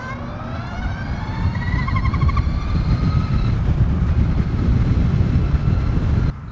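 A Harley-Davidson LiveWire electric motorcycle accelerates, its rising electric whine climbing steadily in pitch over a loud rushing wind and road roar, close and continuous before cutting off abruptly near the end.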